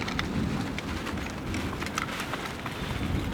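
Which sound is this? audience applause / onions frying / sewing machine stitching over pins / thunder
thunder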